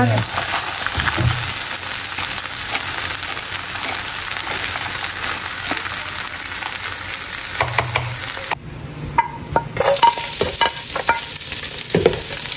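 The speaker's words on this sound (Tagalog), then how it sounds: "Tumutunog pa po yung mani." Peanuts roast in a pan, a continuous dense sizzle and crackle with scraping as they are stirred, loud and close, broken once by a short pause before the stirring resumes.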